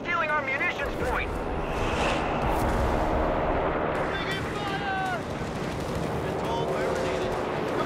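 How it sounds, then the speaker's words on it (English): Mortar and artillery fire in the game Company of Heroes 3 during a 4v4 multiplayer match: dense, continuous rumbling blasts and booms, with in-game voices speaking over the barrage. "Come on, drop rounds on that target."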